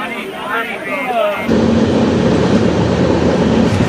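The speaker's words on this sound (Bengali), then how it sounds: "আর আমাদের দার্জিলিং মেল ছেড়ে দিয়েছে শিলিগুড়ির উদ্দেশ্যে" A voice talks briefly, then the close, steady rumble and rattle of the Darjeeling Mail passenger train running toward Siliguri takes over and continues loudly.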